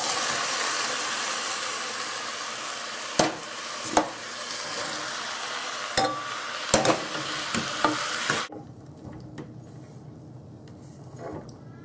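Tomatoes, beans, jalapenos and spices tip into a cooking pot of sweet potato-black bean chili, a loud broad sizzling hiss with several sharp clunks and stirring knocks, then dropping to a quieter simmer.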